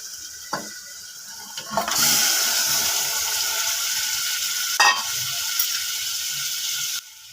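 Mutton pieces drop into hot oil with ginger garlic paste in a pan for mutton kulambu, setting off a loud, steady sizzle after a few clatters, with another clank midway before the sizzling stops abruptly.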